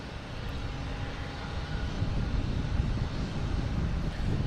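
A brand-new JetBlue airliner lands at Boston Logan, heard as a low, distant, rumbling engine drone that swells slightly in the middle and then holds steady, with some wind noise.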